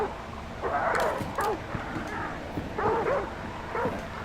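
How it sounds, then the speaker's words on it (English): Dogs bark and yip repeatedly in the Hunt: Showdown video game, several clustered barks and whines at moderate distance over a low ambient rumble. "Those dogs are probably not going to be quiet for a minute."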